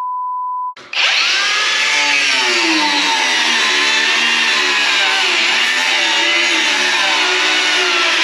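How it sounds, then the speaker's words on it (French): An angle grinder bites into a wooden batten with a loud, harsh continuous whine that starts abruptly after a brief tone and holds steady to the end, fluctuating slightly in pitch as the blade loads. "On va couper ça avec une meuleuse, ça fait pareil."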